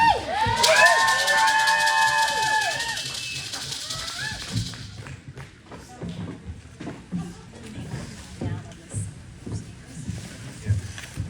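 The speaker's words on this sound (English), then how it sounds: "let's have a big round of applause for Caleb de Casper." Loud applause from an audience at a Girls Rock Camp fundraiser, mixed with cheers and whoops, gradually thinning out to scattered claps and murmuring.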